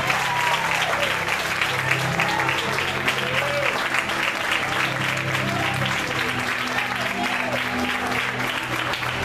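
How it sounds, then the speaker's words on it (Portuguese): Church congregation clapping hands in praise during a Portuguese-language worship service, a steady dense wash of applause throughout with faint voices singing or calling beneath it. "Exalta o nome do Senhor com as suas palmas"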